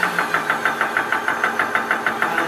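A portable 12-volt mini high-pressure PCP air compressor filling a 0.25-litre tank runs steadily and close, with a fast regular pulsing chug of about five beats per second and no talk.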